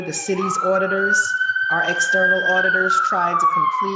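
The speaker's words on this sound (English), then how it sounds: "hold on, that's a siren." An ambulance siren wails as it passes, a rising and falling tone heard clearly under a man's ongoing speech.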